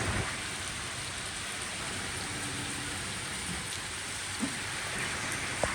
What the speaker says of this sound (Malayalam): എന്താ മഴ നാട്ടിൽ പെയ്യുമ്പോലെയാ പെയ്യുന്നത്.